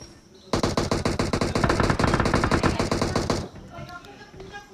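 Rapid automatic gunfire from an M416-style rifle in PUBG rattles in a dense sustained burst for about three seconds, loud and close, then cuts off to quieter game ambience.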